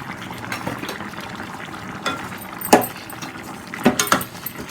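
Coconut oil goes into a pot of chayote curd koottu, a soft bubbling simmer with a few sharp clinks and taps of a utensil against the vessel, close and fairly quiet.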